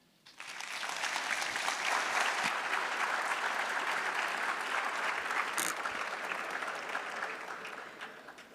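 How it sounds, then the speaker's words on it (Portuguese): Audience applauding the panelists at a drone-use workshop panel, a steady sustained round of clapping from a hall crowd that swells in quickly and holds for several seconds with no talk over it. "gostaria de solicitar uma salva de palmas"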